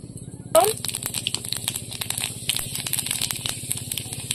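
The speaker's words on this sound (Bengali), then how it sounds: "শুকনো লঙ্কা তেলে কেটে দেবো" Dried red chilies and mustard seeds hit hot oil in a village kitchen, bursting into a sudden crackling sizzle that keeps popping and spitting steadily, close and fairly loud.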